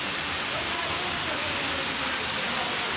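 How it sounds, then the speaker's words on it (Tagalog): A small waterfall at Daranak Falls pours with a dense, steady roar that fills the scene evenly and continuously at close range. "At yung mini waterfall."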